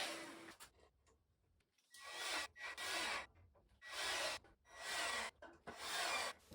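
A hand saw trims extra length off wooden frame pieces for a DIY soil sifter, giving several rough rasping bursts of strokes with short pauses between them, close and fairly loud.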